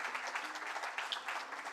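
An audience at a lecture gathering breaking into applause for a speaker, a brief burst of many hands clapping at moderate distance, steady and fairly soft throughout.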